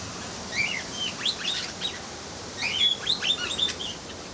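Cockatiels chirp in an aviary in short bursts of bright, high tweets, two clusters of rapid calls separated by a brief lull, fairly close and clear over a soft background hiss.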